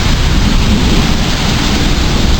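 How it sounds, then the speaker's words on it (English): Steady heavy rain pours down with a dense, continuous hiss and low rumble that suggests thunder, loud and close throughout without any talk. "Rain and thunder."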